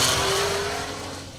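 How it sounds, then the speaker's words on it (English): Tuthill-prepared Porsche 911 rally car at a forest stage rally in Ohio, its engine note loud and sustained at first, then fading steadily as the car moves away. "The beautiful sight and sound of a Tuthill Porsche"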